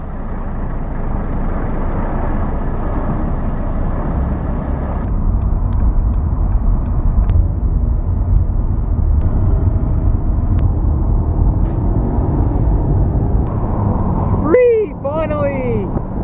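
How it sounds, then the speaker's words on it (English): A car creeps along in slow traffic, giving a steady low road and engine rumble from inside the cabin, with a brief squeaky brake-like sound near the end. "traffic is so slow"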